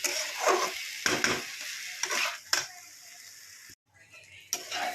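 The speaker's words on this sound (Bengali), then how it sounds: "এবার এটাকে ঘিয়ের মধ্যে ভালো করে নাড়াচাড়া করে নেবো যতক্ষণ না পুরো জলটা শুষে ফটফট করে আওয়াজ হচ্ছে চালের" Soaked basmati rice being stirred in ghee for chicken pulao, with bursts of crackling and scraping strokes against the pan repeating every second or so, close and fairly loud, broken by a brief pause.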